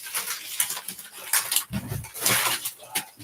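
A dog at home whimpers and whines in short, broken cries that rise and fall, with a few louder nasal yelps mixed in.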